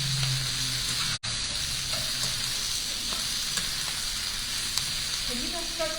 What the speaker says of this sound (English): And I'm going to throw in some broccoli. And I'm going to saute.